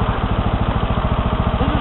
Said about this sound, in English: this is our new John Deere LX 172 lawn tractor